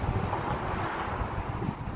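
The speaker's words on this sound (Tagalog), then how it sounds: "Sobrang mahangin ngayon." Steady, strong wind buffeting the microphone beside a lake, a broad continuous rumble with no talk.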